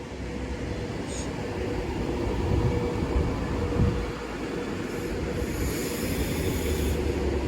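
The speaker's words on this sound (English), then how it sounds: "Departing now is the 11:39 Avanti West Coast service to London Euston" Avanti West Coast train rumbling steadily through Kidsgrove station, a continuous loud low roar of wheels and engine with faint higher hiss near the end.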